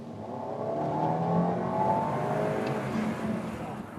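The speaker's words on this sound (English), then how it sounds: "this 2-liter pulls hard all the way through the RPM range, and sounds pretty darn good doing it" The 2-liter engine of a 2017 Audi A4 pulls through the rev range in a smooth, rising drone, heard moderately faint from inside or near the car with a steady road hum underneath.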